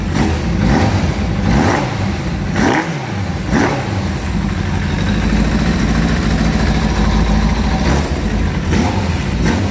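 Suzuki GSXR 750 motorcycle engine running on little fuel, a loud close idle broken by several sharp throttle blips that rise and fall in quick succession, then settling into a steady rumbling idle.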